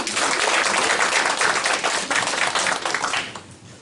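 Audience applause at an award ceremony and business presentation, a dense, steady wash of many hands clapping that carries on for several seconds before thinning out near the end.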